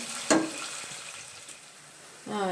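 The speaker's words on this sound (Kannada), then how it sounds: "ಸ್ವಲ್ಪ ಕೆಂಪಗಾಗೋವರೆಗೂ ಸ್ವಲ್ಪ ಫ್ರೈ ಮಾಡ್ಕೊಳ್ಳಿ" Ingredients fry in a pan toward a light reddish colour for egg biryani, a soft, fairly quiet sizzle with a sharp utensil clink near the start and a brief scraping stir at the end.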